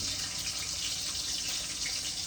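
Garlic and curry leaves hit hot oil in a pan while a Jaffna-style fried eggplant curry is cooked, giving a steady, close, even hiss with no talk.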